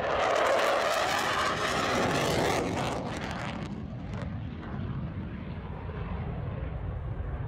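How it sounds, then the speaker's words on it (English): F/A-18 Super Hornet fighter jet making a low flyby at an airshow, a loud broadband roar that sweeps past, then fades into a duller, receding rumble. "This plane spotter captured a FA-18 Super Hornet making a flyby at"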